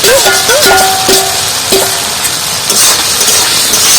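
Potatoes sautéed with spice masala in a pan give a loud, steady sizzle, with ringing metallic clinks and scrapes from the utensil against the pan.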